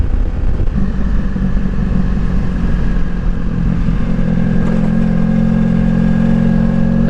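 A motorcycle cruising at about 55 mph through wooded country gives a steady, loud engine drone mixed with constant rushing wind noise, unbroken from start to finish.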